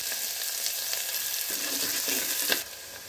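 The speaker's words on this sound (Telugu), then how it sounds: "ఆయిల్ వేడైందండి, ఆనియన్స్ వేసేస్తాను." Onions sizzle and crackle steadily in hot oil for a mutton gongura curry, a dense close frying hiss with a few brief louder pops near the end.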